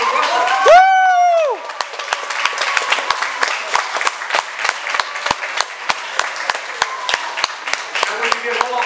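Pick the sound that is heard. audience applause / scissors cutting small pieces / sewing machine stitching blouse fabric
audience applause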